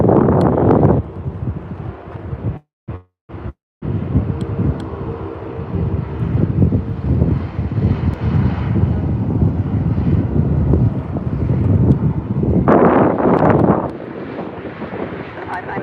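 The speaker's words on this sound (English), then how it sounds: "There's our Embraer Porter Airlines rolling out." At Vancouver airport, a Porter Airlines Embraer jet rolls out under a steady, broad engine roar with some wind buffeting. The jet noise swells again near the end, and a person speaks over it.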